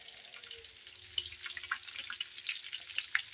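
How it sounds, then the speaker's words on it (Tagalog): Tilapia fish frying in a pan gives a quiet, close crackling sizzle with scattered sharp pops over a soft hiss, steady throughout with no voices. "Nagpiprito ako ng tilapia."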